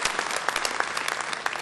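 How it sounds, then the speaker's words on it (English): A seated audience claps in a short, lively burst of applause, with distinct individual claps standing out from a dense, even patter. "big round of applause for our space travelers"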